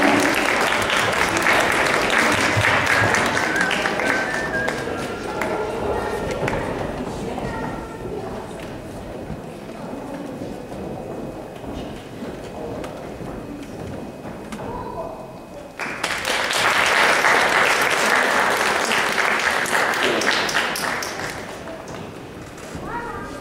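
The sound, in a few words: concert audience applause for the performers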